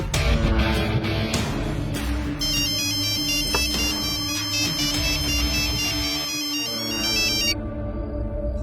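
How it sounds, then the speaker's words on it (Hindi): A bright electronic phone ringtone plays a repeating melodic pattern, loud and continuous, then cuts off near the end, leaving a low background rumble. "फोन कर उस करण को।"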